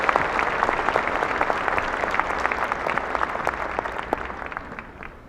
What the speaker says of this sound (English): Let's have one more round of applause for Dr. Wesley.